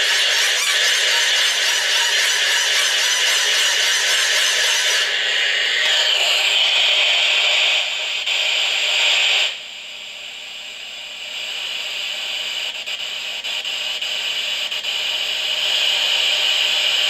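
A hand crank turns on a small solar and crank radio, giving a continuous grinding, whirring rub that runs steadily for several seconds and then drops to a quieter hiss after it stops.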